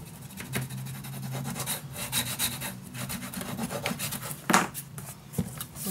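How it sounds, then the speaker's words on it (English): Paper being burnished down inside a handmade Alice in Wonderland mini album in a box, a steady close scraping and rubbing with short strokes and a few sharper scuffs, continuing alone without talk. "Okay, burnish it down."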